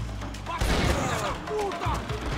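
Shotgun fire in a video game, a few close, sharp blasts packed into a short burst and heard above continuous game noise.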